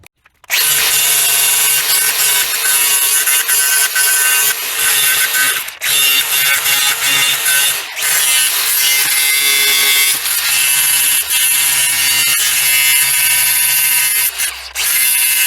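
An angle grinder works a weld on the cast wobble arm of a New Holland 905 swather, a loud, continuous abrasive whine that runs nearly unbroken with brief dips where the disc eases off the metal.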